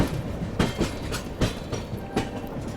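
The Dakshin Express passenger train rolling along the tracks near Nagpur Junction, its wheels beating out a rhythmic clickety-clack over a steady rumble, heard from on board.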